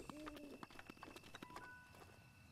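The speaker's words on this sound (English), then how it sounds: "I hear an owl." In the video game Breath of the Wild, an owl gives soft, low hoots, faint and distant, mixed with scattered clopping taps and brief tonal game sounds in a quiet scene.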